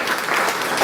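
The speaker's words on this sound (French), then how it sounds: "On peut vraiment applaudir très fort" A church congregation at a Brussels thanksgiving Mass for Papa Thomas Mpadi Nkiambi claps loudly and densely, a continuous wash of applause with no break.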